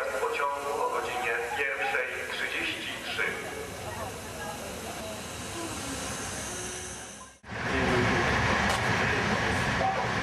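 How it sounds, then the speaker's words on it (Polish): Train rolling through a station in Poznań, a steady rumble and hiss of rail cars with some voices mixed in; the sound cuts briefly near the end, then resumes louder. "W Poznaniu czekamy na następny pociąg,"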